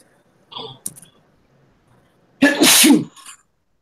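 A single sharp sneeze rings out close and loud in a quiet room, preceded by a brief rustle and soft breathy sounds.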